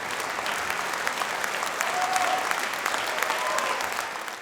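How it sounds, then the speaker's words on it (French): Audience applause following an orchestral concert by the Monte-Carlo Philharmonic Orchestra, a steady, dense wash of clapping from a large hall crowd that holds evenly throughout, with no voices over it. "sous la direction de Gianluigi Gelmetti, très applaudi par le prince souverain et le public, a été bissé."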